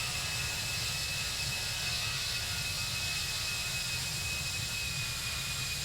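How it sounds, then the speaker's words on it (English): Steady, even roar of an A321 jet engine cycling down at cruise in a flight simulator game, with a broad hiss and a faint high whine holding constant throughout. "sounds like we reached cruise because I can hear the engine cycling down there"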